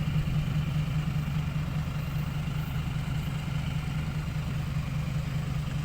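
A tractor engine idles with a steady, low, continuous rumble, close by and unchanging, with no voices.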